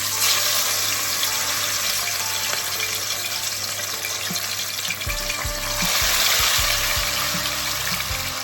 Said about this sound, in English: Now that the oil is up to temperature now, I'm just gonna drop my pieces in.